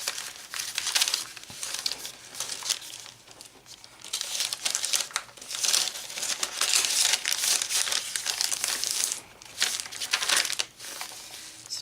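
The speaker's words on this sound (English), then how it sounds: "if I can get it to unfold, just a sheet of some extra paper." A sheet of extra paper tucked in a handmade Christmas journal is unfolded and handled, giving close, loud bursts of crinkling and crumpling that come in uneven waves with brief quieter pauses between.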